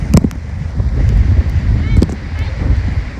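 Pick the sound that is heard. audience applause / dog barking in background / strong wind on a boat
strong wind on a boat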